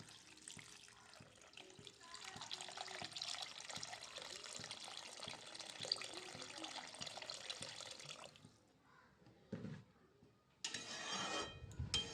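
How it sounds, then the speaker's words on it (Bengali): Water poured into a pan of Bengali fish curry with raw tomato, mustard paste and vegetables, a steady close splashing wash lasting about eight seconds, then quieter stirring and a short final burst, with no talking. "পরিমাণ মতো জল আমি দিয়ে দিয়েছি"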